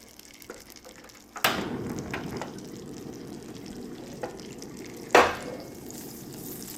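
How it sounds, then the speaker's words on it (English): Clarified butter hitting a hot pan, a sudden loud sizzle that fades into a steady crackling fry, followed by a second sharp burst of spattering a few seconds later. "I'm just gonna put this into a hot pan. This is clarified butter just straight up."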